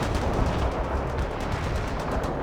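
Rapid gunfire rattles nonstop through a World in Conflict battle, dense overlapping shots and heavier booms forming a loud, unbroken barrage with no speech.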